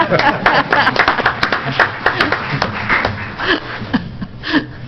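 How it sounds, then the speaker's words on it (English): An audience at a town council meeting claps in a quick burst of applause that runs under a man's continuing speech, with crisp hand claps fairly close. "Now you can applaud."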